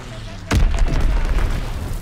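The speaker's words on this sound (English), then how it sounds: "Enemy bomb incoming. Get to cover." A bomb detonating in a Flak Tower match of the shooter game Kill Confirmed, a sudden heavy boom that cuts in sharply then rolls on as a dense rumbling tail.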